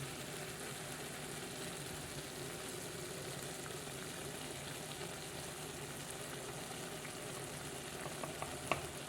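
A pan of ridge gourd sabzi with chilli and turmeric sizzles and fries steadily as it is stirred, giving a dense, even crackling hiss that holds for the whole stretch.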